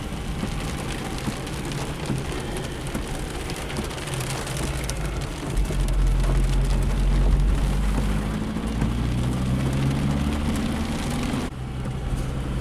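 Rain falls during a drive in a Fiat Panda, a steady hiss and patter on the car body over the low hum of the engine and road. It is fairly loud and continuous, with no talking.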